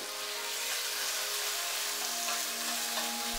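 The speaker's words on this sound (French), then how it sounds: "faire saisir la viande une petite minute" Beef searing in hot oil in a sauté pan over high heat, a dense, even sizzle and crackle that holds steady and close throughout, with no voices.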